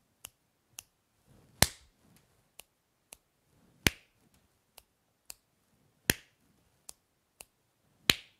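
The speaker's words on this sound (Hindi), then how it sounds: "अब मैंने किया 2 चुटकी और ताली, 2 चुटकी और ताली, 2 चुटकी और ताली" Two crisp finger snaps followed by a louder, fuller hand clap, repeated four times in a steady rhythmic pattern, close and clear with nothing else around it.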